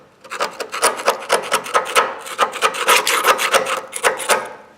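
A screwdriver scrapes and chips paint off the steel frame of a Ford F250 truck, giving rapid, rhythmic rasping strokes that are loud and close, with no talking.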